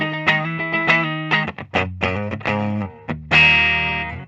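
A 1990 Gibson Custom Shop Firebird V electric guitar on its neck pickup plays a short phrase of notes and chords with a warm, full tone and a slightly driven edge, ending on a sustained chord.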